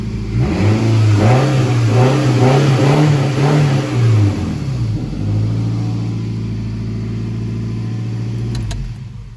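A Toyota RAV4 engine with a broken muffler revs up and down with a harsh, rattly, unmuffled roar, then settles into a rough, throaty idle.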